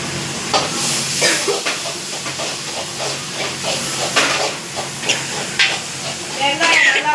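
Onion and tomato sauté in a pan with an ongoing hiss of frying, punctuated by repeated scraping stirs and clinks, while a voice talks intermittently over it.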